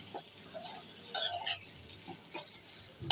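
Chopped onion frying in a pan, a soft, quiet sizzle with intermittent scraping bursts from stirring, close by and without speech.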